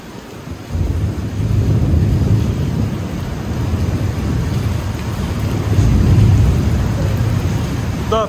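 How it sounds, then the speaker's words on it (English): Thunder rolls low and long during a rainstorm over a nearly empty outdoor stadium, a deep continuous rumble swelling and fading with wind buffeting the microphone. "The thunder fucking rolls."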